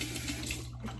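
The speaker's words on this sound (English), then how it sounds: "Rinse off with warm water." Warm water runs steadily from a bathroom tap into a sink for rinsing after a shave with a Harry's razor, a close, continuous splashing flow.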